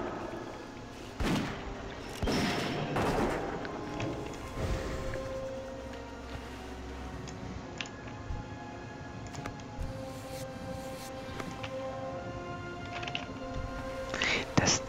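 Rapid gunshots from a hunter's ability in World of Warcraft: The Burning Crusade, sharp cracks and thumps scattered irregularly over game ambience, with clustered bursts early on and occasional shots later, partly under someone talking.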